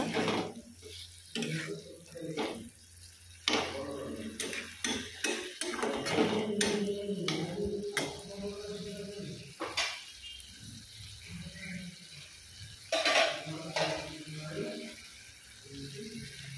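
Boiled potatoes fry with spices in a pan, with a steady sizzle and repeated scraping and stirring strokes. A voice talks over the cooking.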